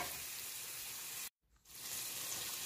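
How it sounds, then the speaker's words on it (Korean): Abalone sizzling in butter in a frying pan, a steady loud fry that cuts out abruptly for a moment as the pieces are flipped, then resumes crackling. "전복을 굽습니다. 한 면이 구워지면 버터를 조금 더 첨가해서 뒤집어주세요."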